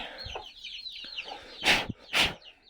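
Backyard chickens in a permaculture garden clucking softly in a quick run of short calls, then two louder, close squawking bursts near the end.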